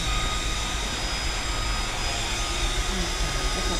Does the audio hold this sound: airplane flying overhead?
yes